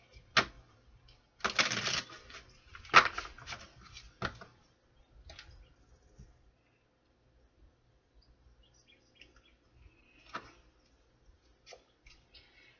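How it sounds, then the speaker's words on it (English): Tarot cards riffle and flap in a few quick, crisp bursts close by, then a quieter stretch with occasional light taps and rustles. "One more shuffle."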